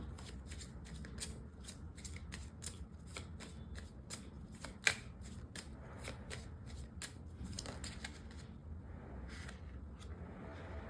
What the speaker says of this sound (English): So pulling out 8 cards now.